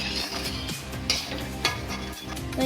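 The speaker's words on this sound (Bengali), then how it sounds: "এবার এই পকোড়াগুলোকে আমি উল্টে পাল্টে ভেজে নেব" Oil sizzles and crackles steadily as pakoras fry in a pan, with occasional clinks of a utensil stirring close by.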